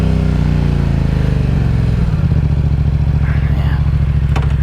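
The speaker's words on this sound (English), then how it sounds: "let me turn this idle down real quick" A motorcycle engine idles steadily at close range on a late-night ride, a low continuous thrum that drops in pitch partway through as the idle is turned down.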